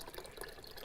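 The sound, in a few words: pouring pineapple juice into punch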